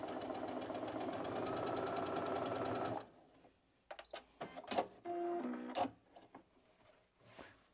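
A sewing machine stitches a seam in a fast, even mechanical run for about three seconds, then stops, followed by scattered clicks and handling noises.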